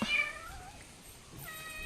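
A cat meows twice in a quiet old house, a drawn-out call near the start and another shorter one near the end, fairly close with no voices.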